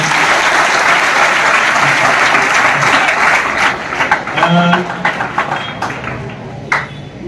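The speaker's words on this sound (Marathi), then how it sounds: "आपल्या चिंतनसाठी जोरदार टाळ्या उठवल्या." An audience at a school felicitation ceremony claps loudly and continuously, the applause thinning into scattered claps and faint voices toward the end.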